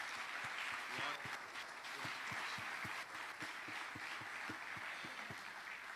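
Church congregation applauding during a sermon, a dense wash of clapping with rhythmic beats running through it, fairly faint and distant, with a voice speaking over it.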